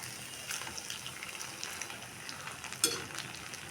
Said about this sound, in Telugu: ఇప్పుడు ఇవి కొంచెం వేగిన తర్వాత అప్పుడు కదిలించండి